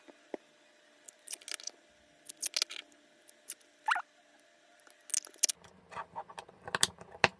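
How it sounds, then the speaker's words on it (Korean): Crinkling, peeling and small plastic clicks as protective film is stripped off and acrylic stand pieces are fitted together, close and intermittent with scattered crunchy bursts. "한번 비닐을 떼고 조립을 한번 해볼까요?"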